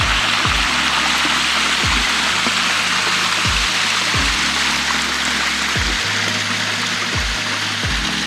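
Jungle waterfall in El Nido, Philippines, heard up close: a steady, loud, broadband roar of falling water rushing continuously throughout, with no voices.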